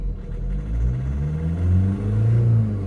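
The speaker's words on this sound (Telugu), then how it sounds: "టక్ టక్ టక్ టక్ టక్ అనే ట్రాక్టర్ సౌండ్ భయంకరంగా వస్తుంది దీనికి." A VW Vento TDI diesel with injectors not delivering fuel properly runs on its own, giving a steady low rumbling idle with a faint repetitive clatter and slow shifts in pitch throughout.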